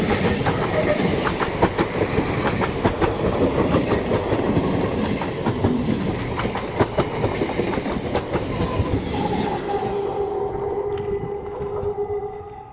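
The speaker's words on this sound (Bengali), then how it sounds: "অনেকটা কাছে ট্রেন চলে এসেছে" A train passes close by on a railway track, loud continuous rumble with rhythmic clickety-clack of wagon wheels over rail joints, fading out toward the end.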